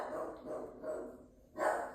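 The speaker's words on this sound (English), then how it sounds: "Oh, the dogs are barking." Dogs bark at a distance in a few faint, muffled bursts, with a slightly louder bark at the end and no voices present.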